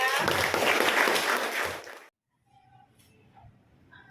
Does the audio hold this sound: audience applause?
yes